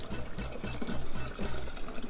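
Pineapple juice poured from a squeezed bottle with no spout into a glass while making whipped strawberry milk, a short soft splashing trickle close up.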